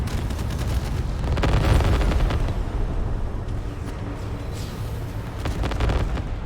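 Missile launches and explosions from the space combat game Starcore: dense, overlapping booms and blasts that roll on continuously, with heavier bursts swelling around the middle and near the end.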